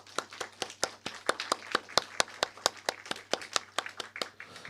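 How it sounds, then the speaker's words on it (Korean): A church congregation at a joint worship service applauds the worship team. The clapping is fairly sparse and rhythmic, with distinct individual claps in a loosely steady beat, heard from a moderate distance. "더 사랑교회 찬양팀을 향해서 박수로 한번."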